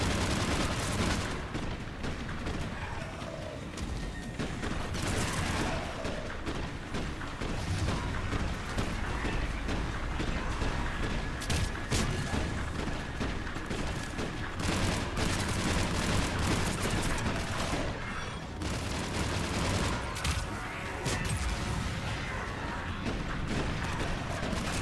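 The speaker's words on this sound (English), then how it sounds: "Give us some cover fire!" Video game firefight with dense, continuous cover fire: rapid automatic gunshots and bursts layered over explosions and mechanical clatter, loud and unbroken throughout.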